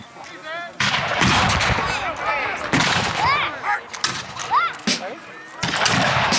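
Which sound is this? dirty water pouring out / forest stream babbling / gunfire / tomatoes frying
gunfire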